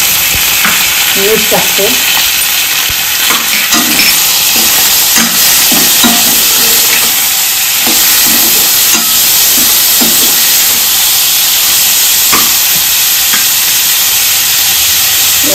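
Prawns frying in a pan with browned onions for a Goan prawn curry, a loud continuous sizzle and hiss with scattered stirring scrapes and clinks, close up, while someone speaks briefly.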